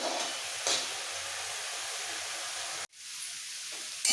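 Cabbage fries in a pan over a high gas flame, making a constant airy hiss that dips briefly near the end before swelling back, with no one speaking.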